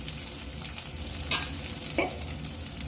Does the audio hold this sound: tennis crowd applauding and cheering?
no